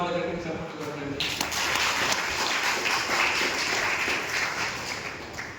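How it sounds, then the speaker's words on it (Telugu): A church congregation applauds loudly and continuously, a dense close wash of clapping that swells and slowly fades, with voices under it. "ఇంకా బాగుండాలి అనుకున్న వాళ్ళు గట్టిగా చప్పట్లు కొట్టండి"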